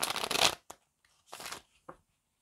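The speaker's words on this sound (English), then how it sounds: "All right, quick three shuffles." Stiff tarot cards being shuffled in a few quick riffling bursts separated by pauses, close and fairly quiet, with a soft tap between them.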